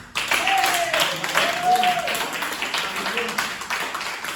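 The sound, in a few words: audience clapping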